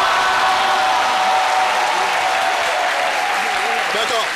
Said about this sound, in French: ceux qui applaudissent pour moi, je veux vous entendre encore.